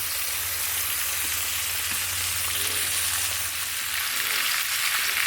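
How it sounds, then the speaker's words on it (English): Four pork chops, browned golden on one side, sizzle loudly in a hot pan for a creamy spinach mushroom pork chop dish; a steady, dense crackle runs throughout with no talking. "we're going to take the 4 pork chops and we are going to go ahead and flip them"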